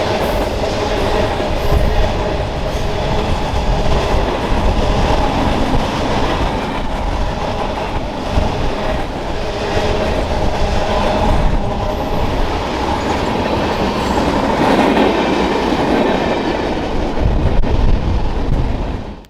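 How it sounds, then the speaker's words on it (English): A westbound Union Pacific mixed freight train rolls past on the Portland subdivision in the Columbia River Gorge, a loud, steady rumble with rhythmic wheel clatter and rail noise sustained close by throughout. "we were greeted by a fleet of westbound Union Pacific trains beginning with this mixed freight"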